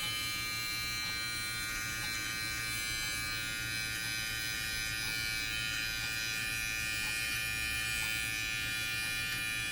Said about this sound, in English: So now we are here to test this full-size trimmer.